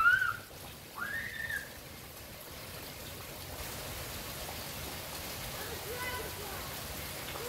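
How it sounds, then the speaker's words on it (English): Steady rain hisses and patters outdoors at moderate volume, a continuous wash of sound after a couple of brief whistle-like chirps at the start. "Okay, I'm gonna go into the rain."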